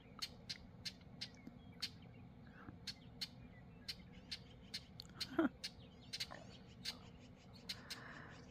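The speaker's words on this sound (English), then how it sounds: "The birds are all up and at 'em." Early-morning birdsong outdoors: a small bird repeats short, sharp chirps in a steady, evenly spaced rhythm, faint to moderate over a low background hum, with one brief louder call partway through.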